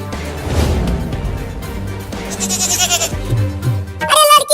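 A cartoon goat in a village wolf chase gives a short, close, nasal bleat near the end, after a stretch of busy background music and voices.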